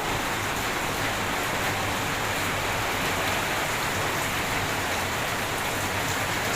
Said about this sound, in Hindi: बहुत बारिश हो संगवारी हो